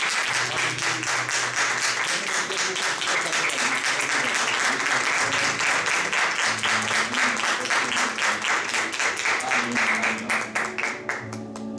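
Loud, sustained applause from a church congregation welcoming a pastor, dense clapping that fills the whole stretch, with a faint voice or music tone underneath and a slight fade near the end.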